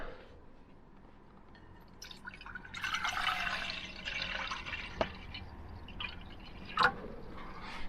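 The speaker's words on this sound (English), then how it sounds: "We gotta get some water boiling." Tap water runs into a pot for boiling pasta inside a van on a quiet evening, a soft trickle and splash that grows louder midway, with a few sharp clinks of the pot, fairly close.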